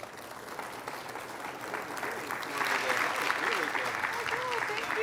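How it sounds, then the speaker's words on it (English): An audience at a Woodland Chamber of Commerce event applauds steadily for a speaker, a soft, fairly distant wash of clapping that swells slightly midway, with faint voices underneath. "So let's give her another big round of applause."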